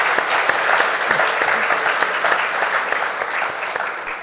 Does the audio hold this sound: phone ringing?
no